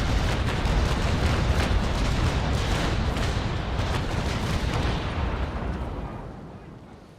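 Naval cannons thunder in a sailing-ship combat game, a loud continuous barrage of booming shots rolling together before fading out over the last seconds.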